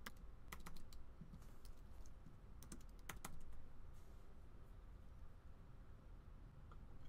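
Quiet keystrokes on a computer keyboard while entering a password, with clusters of quick clicks in short bursts separated by pauses, soft and close against faint room hiss.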